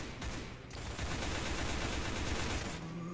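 Rapid automatic gunfire from the Roblox-style shooter Arsenal plays as a dense, continuous burst of shots, loud and close, with a brief gap near the start and no talk.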